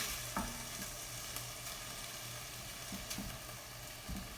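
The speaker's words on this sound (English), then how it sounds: "stir this meat and onions one more time. It's cooking up nicely." Beef and onions fry in a pan for cabbage beef soup, a soft continuous sizzle with a few light scrapes and taps as they are stirred.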